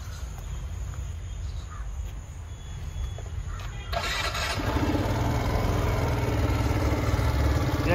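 A Vespa Elegant 125cc scooter starts up with a short crank and catches about halfway through, then runs at a steady, moderately loud idle over background ambience.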